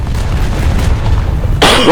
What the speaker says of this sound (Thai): ระเบิด ระเบิด